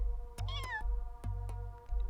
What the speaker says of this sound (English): You know how most cats have this pleasant meow?